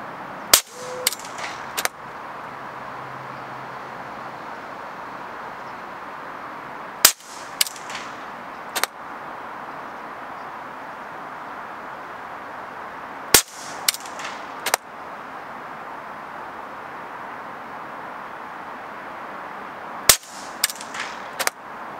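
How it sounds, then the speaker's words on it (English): A Gorilla PCP air gun firing slugs during an accuracy test, four sharp, loud cracks spaced several seconds apart, each followed by a few fainter clicks and impacts against a quiet outdoor hiss. "Let's go to the next air gun, to Gorilla air gun,"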